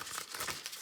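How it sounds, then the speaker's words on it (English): A deck of tarot cards is shuffled up close, with a quick series of crisp, papery riffling bursts in an uneven rhythm and no talk. "Okay, one more shuffle."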